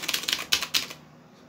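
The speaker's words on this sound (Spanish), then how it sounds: "es el mismo teclado, está escribiendo perfecto" Typing on a freshly cleaned mechanical gaming keyboard: a quick run of crisp, clacky keystrokes close up, then stopping into near silence.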